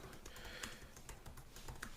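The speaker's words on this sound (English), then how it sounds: "Sorry if you can all hear my typing in the background" Rapid clicking of keys on a computer keyboard, a steady patter of light taps heard close but quiet against a constant background hiss, with no voices.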